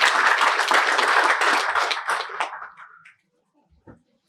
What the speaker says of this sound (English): Please join me to give the committee a round of applause